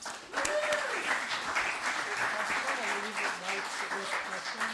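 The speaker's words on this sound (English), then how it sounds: "let's give her a warm round of applause" Applause from the audience at a Pecha Kucha night in Longmont, a warm, continuous round of clapping filling the room while voices talk over it.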